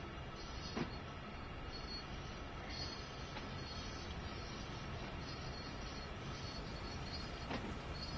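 A freight train on Sand Patch Grade in Train Sim World 2 rumbles along steadily, with a few faint metallic squeals and clicks rising over the constant low rolling noise.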